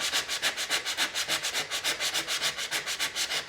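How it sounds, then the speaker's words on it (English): Pine board being sanded by hand with 180 grit sandpaper, close and crisp, a quick regular rhythm of rasping back-and-forth strokes, about six per second, with no voices. "I sand the surface with 150, and I'm sanding this with 180."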